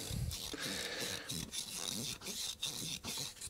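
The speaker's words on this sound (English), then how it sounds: "just start to rub the wire wool all the way around" Wire wool rubbed around the inside of a lawn mower carburetor bowl to clear green ethanol gunk, a close, continuous scratchy rasping in quick back-and-forth strokes with brief gaps, heard alone.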